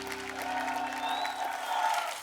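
Applause from a studio audience on a Hindi comedy talk show greets a young guest as a steady, dense wash of clapping with a light crowd murmur and some background music tones.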